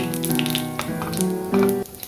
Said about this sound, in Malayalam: അപ്പോൾ നമ്മുടെ എണ്ണ ചൂടായിട്ടുണ്ട്. അതിലേക്ക് 1 ടീസ്പൂൺ കടുക് ഇട്ട് കൊടുക്കാം.